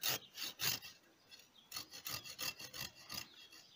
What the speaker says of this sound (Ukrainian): Ця пилка дуже швидко ріже,